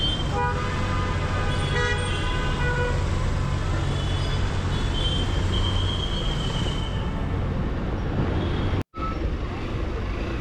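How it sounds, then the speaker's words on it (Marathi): Heavy road traffic near Karad, heard from a motorcycle on a highway ride, makes a steady roar, with repeated car horn toots sounding over it and a brief dropout near the end. "कराड क्रॉस केल्यापासून तर नुसतं ट्रॅफिक आहे."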